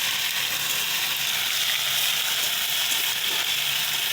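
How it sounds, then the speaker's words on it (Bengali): Taro stolons are fried in a pan with a dense, continuous close sizzle, loud and even throughout, with faint stirring scrapes beneath. "লতিগুলো সব কটা দিয়ে দিলাম। এইটা একটু নাড়াচাড়া দেবো,"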